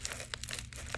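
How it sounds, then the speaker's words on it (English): A well-wrapped paper package is torn and crinkled open by hand, close up, with quick bursts of crisp tearing and rustling paper in an irregular rhythm. "Let's take a little snippet and tear"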